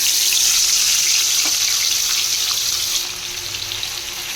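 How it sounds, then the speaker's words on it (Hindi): Hilsa fish fries lightly in hot oil with a steady, close hiss and sizzle that drops slightly in level near the end. "तो इसको मैं थोड़ा सा फ्राई कर लूँगी, एकदम हल्का सा"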